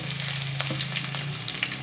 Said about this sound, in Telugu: పెనంలోకి కొంచెం ఆయిల్ తీసుకున్నాము. పోపు వేసానండి. తర్వాత కొంచెం గార్లిక్